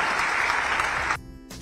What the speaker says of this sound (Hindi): जरा जोरदार ताली बजा करके